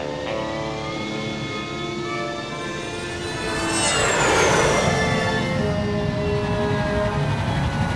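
A jet taking off in a Psychonauts video game cutscene, a steady engine whine that swells into a loud roaring rush with a sweeping pitch change midway, then stays heavy and sustained.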